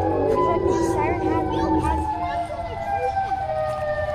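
Siren Head's wailing siren call in a horror video game, a loud rising and falling tone running throughout the clip beneath excited players talking over each other.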